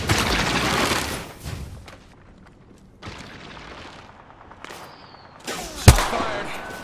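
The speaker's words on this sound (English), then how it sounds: "Shot fired." Gunfire in the Apex Legends video game comes in bursts of sharp shots with quiet gaps between them, including a loud single crack near the end.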